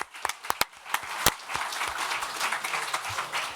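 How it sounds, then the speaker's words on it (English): Conference audience applauds the presenters at the close of a medical session on bariatric surgery outcomes: a few scattered sharp claps first, then building into steady moderate applause from a mid-sized room. "big applause to everybody for your contribution"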